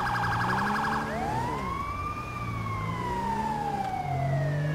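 An ambulance siren wails loudly in a GTA 5 driving scene, a rapid yelp switching to a long rising and falling wail over low engine rumble, with no talk.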